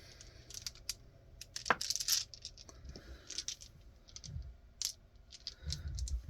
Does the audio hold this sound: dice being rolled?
yes